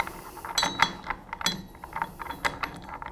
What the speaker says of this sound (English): Then we can put our captive nut on.